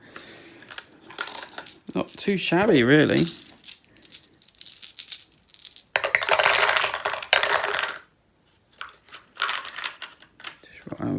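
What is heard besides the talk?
dice rolling through a board game dice tower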